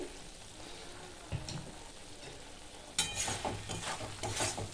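Mustard oil drizzled over small puti fish already frying in a pan raises a bright crackling sizzle, a quiet background fry before a sudden louder burst of popping and spattering that continues to the end.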